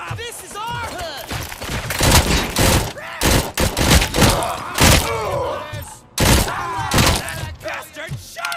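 Gunfire in the video game RoboCop Rogue City, with loud, dense bursts of shots and impacts sounding nearly continuously. Shouting voices are heard over the shooting.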